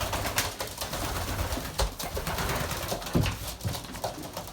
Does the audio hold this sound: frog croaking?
no